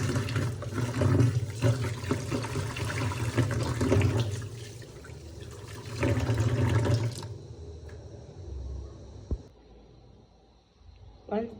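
Rice for Kenyan beef pilau is rinsed in a sink under running tap water, with splashing and swishing close by for several seconds before the flow stops and quieter handling sounds follow.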